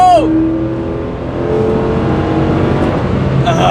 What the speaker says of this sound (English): take this thing out when it's not heat soaked and try and blast it to 60 with the nitrous as fast as it can go